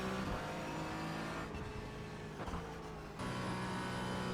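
Race cars in an IMSA Challenge at Monza in a racing video game roar together in a close pack, a steady loud engine drone with brief dips as cars jostle and pass.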